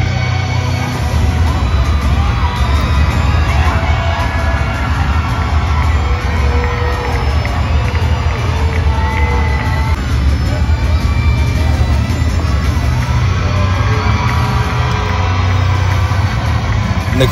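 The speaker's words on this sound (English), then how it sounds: "the crowd's really feeling alive here tonight for Drew McIntyre." A wrestling arena crowd roars and cheers for Drew McIntyre during a WWE Supershow entrance, sustained and loud throughout with excited shouts rising above, while commentators talk over it.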